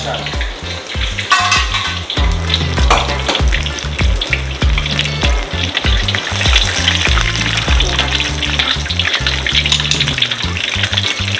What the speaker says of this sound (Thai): ใช่เอามาทอดอีกทีนะครับ